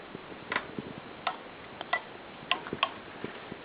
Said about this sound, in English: When you blow harder, the second click will come in.